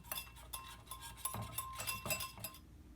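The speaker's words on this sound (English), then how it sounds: "So we have some whole grain mustard, honey, a little lemon juice, salt, and pepper that I'm just going to whisk together" A whisk beats whole grain mustard, honey, lemon juice, salt and pepper into a honey mustard glaze, giving quiet, quick, rhythmic metallic clinks and taps against a bowl, close and alone.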